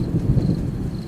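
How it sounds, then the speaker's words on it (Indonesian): Heavy rain with thunder rumbling and strong wind, a steady dense low roar throughout, loud and close with no break. "disertai petir dan angin kencang."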